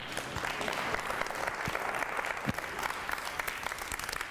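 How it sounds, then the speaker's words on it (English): An audience at an electric vehicle association's general meeting applauds: dense, even clapping from a room of people, fairly soft and slightly distant, continuing throughout without speech. "A round of applause."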